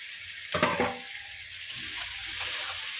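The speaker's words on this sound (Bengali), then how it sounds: "এবারে আমার ভেজে রাখা সবজিগুলো আমি দিয়ে দিচ্ছি।" Vegetables already fried are stirred into spiced oil in a pan, giving a brief scrape and sizzle burst early on, then a quieter steady sizzle with a few light stirring clicks.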